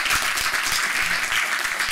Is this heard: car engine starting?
no